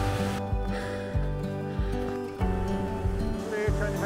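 A steady roar of rushing water on a walk up Hallin Fell fills the background, with a voice talking over it throughout.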